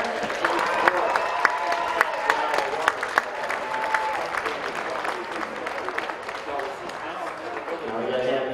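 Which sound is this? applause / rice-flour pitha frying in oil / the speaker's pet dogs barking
applause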